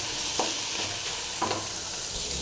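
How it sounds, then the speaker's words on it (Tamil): Drumstick leaves (murungai keerai) stir-fry in a pan for a Tamil keerai poriyal, giving a steady soft sizzle with two brief scraping stirs of a spatula, close and fairly quiet, with no talking. "நல்லா ஃப்ரை ஆகிடுச்சு"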